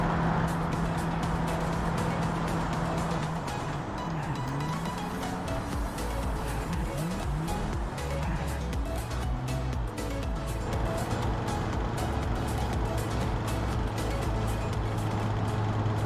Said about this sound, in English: the rod bearing started knocking